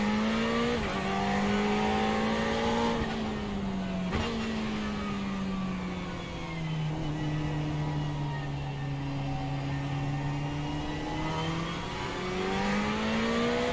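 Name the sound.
Ferrari race car on formation lap at Watkins Glen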